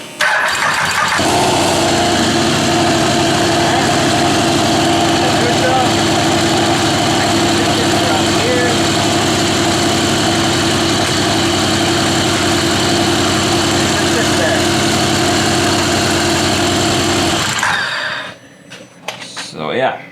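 A Can-Am off-road vehicle's engine, just back from clutch work with a new helix, roars loud and steady at close range for about seventeen seconds before cutting out, with brief noises afterward.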